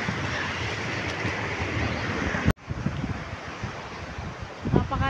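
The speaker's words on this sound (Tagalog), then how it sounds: "Napakalamig ng simoy ng hangin dito sa dagat, oh." Strong cold sea wind buffeting the microphone on a boat at sunset, a loud continuous roar with surf and waves beneath and a brief dropout midway.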